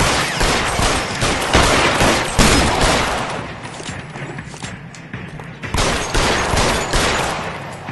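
Rapid gunfire bursts in L.A. Noire, loud and dense, rattling almost continuously with thumps and clatter, briefly easing in the middle before intensifying again.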